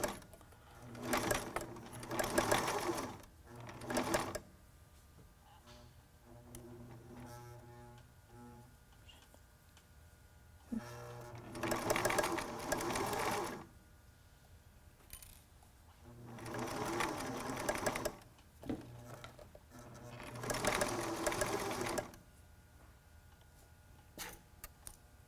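A sewing machine stitches a face mask made from a T-shirt, running in four or five bursts of rapid whirring and ticking separated by quiet gaps, close but fairly soft.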